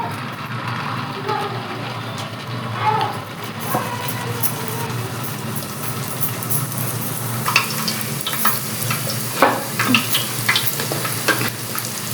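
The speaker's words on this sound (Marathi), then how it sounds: "आता आपण पुऱ्या तळण्यासाठी तेल ओतून घेऊ आता आपण पुरं टाकून घेऊ" Oil sizzles and crackles steadily as puris fry, with bursts of louder bubbling and occasional stirring clinks close by.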